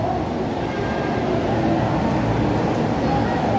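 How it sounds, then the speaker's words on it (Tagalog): An MRT metro train rumbles past nearby, a steady broad roar lasting the whole stretch with no talk over it. "MRT again."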